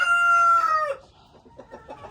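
Chickens vocalise up close, opening with a loud, drawn-out rooster crow that is followed by a string of softer, rhythmic clucks from hens, with a faint low rumble of wind beneath.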